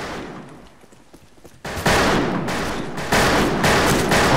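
Gunshots in the Fistful of Frags video game, loud sharp reports arriving in two abrupt bursts after a quieter stretch, with a steady roar behind them.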